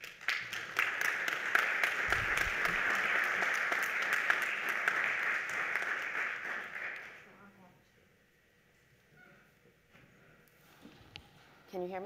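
An audience gives sustained applause to welcome Dr. Jocelynne Rainey, president and CEO of the Brooklyn Community Foundation, steady clapping for about seven seconds that then dies away into quiet room noise with a few faint sounds.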